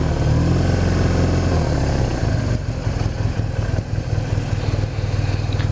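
Scrambler motorcycle engine running close by, a loud steady rumbling putter that roughens and pulses slightly in the second half, with no voices.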